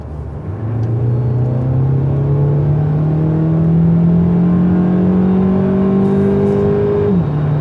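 A 2019 Mercedes B200 AMG-line pulls hard from 60 to 130 on a highway, its engine note climbing steadily in pitch with a brief dip near the end as it shifts, under a constant loud road and wind roar.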